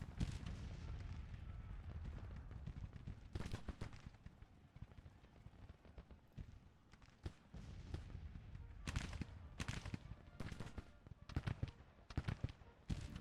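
Cannon and rifle fire on a Civil War battlefield in Grand Tactician: The Civil War, with scattered crackling musketry and sharp repeated bursts at a moderate distance, a voice speaking between volleys.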